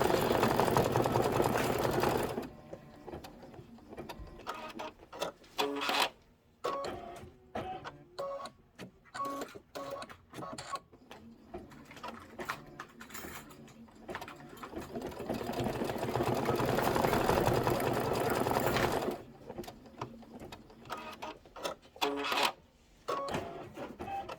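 Sewing machine stitching in bursts, a fast mechanical whirring hum that starts and stops several times with short quiet gaps between runs, fairly close and steady.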